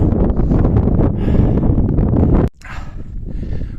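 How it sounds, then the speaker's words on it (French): Gusty wind buffets the microphone on a mountain trail near the summit of Rysy, loud rumbling bursts that drop abruptly, then resume more softly. "il y a un peu de vent, mais pas trop"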